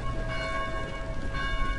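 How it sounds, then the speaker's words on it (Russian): Church bells ring in the game Dead Island, sustained overlapping metallic tones that resound steadily and fairly loud, swelling again near the end. "Да заткните эти колокола!"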